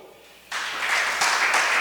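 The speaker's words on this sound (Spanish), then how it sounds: "Eso debería de llevar un aplauso." A church congregation breaks into applause during a Spanish-language sermon. It begins abruptly as a dense wash of clapping and holds steady and fairly loud to the end.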